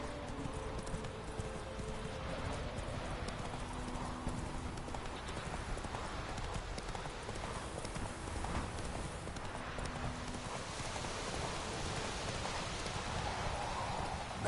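Horse hooves clip-clop at a steady galloping rhythm in The Witcher 3, continuous and fairly close over a soft background wash, with no talking.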